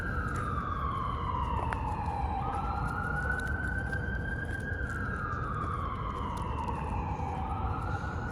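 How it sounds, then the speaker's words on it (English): Emergency vehicle siren wailing through downtown Birmingham, Alabama, a rising and falling tone sweeping slowly over steady city traffic rumble, moderately loud and somewhat distant, continuing throughout. "You hear sirens?"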